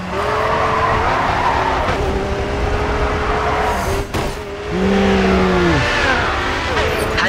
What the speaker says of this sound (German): Was für ein Drift.